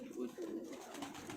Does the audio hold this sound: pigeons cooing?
yes